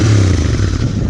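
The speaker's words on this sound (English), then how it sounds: "And the minute you start the engine" A Royal Enfield Interceptor 650 parallel-twin with a 270-degree firing order runs with a loud, steady low exhaust rumble, close to the microphone, with no talking.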